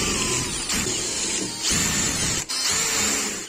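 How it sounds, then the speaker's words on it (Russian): A drill bores a through hole in a piece cut from a tin can, giving a steady, loud whirring grind that holds across the short span with a few brief dips as the bit presses into the thin metal. "И сделаем сквозное отверстие тоже сверлом."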